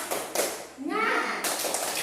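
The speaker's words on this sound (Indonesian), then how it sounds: "Nah, ayo semua. Tepuk semangat." A classroom of children doing a rhythmic 'tepuk semangat' group clap: short bursts of clapping around a brief chanted vocal in the middle, close and fairly loud.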